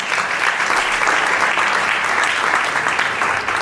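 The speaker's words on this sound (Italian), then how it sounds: "Con DJ Michele Piase, un applauso." Sustained applause from an audience at a literary award ceremony in Verona, dense even clapping filling the room for several seconds, loud and close, with no voices over it.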